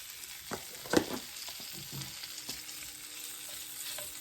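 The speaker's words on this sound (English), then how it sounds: "Next you're gonna add like a teaspoon of butter. Add the sausages." Andouille sausages frying in a teaspoon of butter in a skillet, a steady close sizzle punctuated by a few utensil knocks and one sharper clatter early on, no talking.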